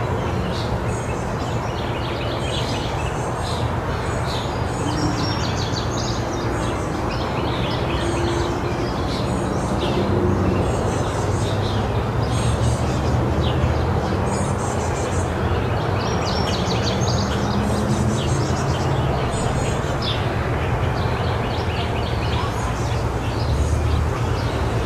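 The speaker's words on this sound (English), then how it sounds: "let you guys enjoy my beautiful" Backyard bird feeder with steady, overlapping bird chirps and tweets outdoors, fairly close, over a constant bed of ambient noise.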